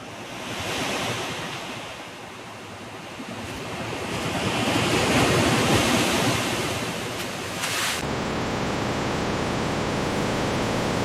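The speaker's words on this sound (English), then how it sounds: "The waves are such a vibe." Ocean surf rolls in steady broadband washes, rising and falling with no voices, a wind-like hiss running throughout.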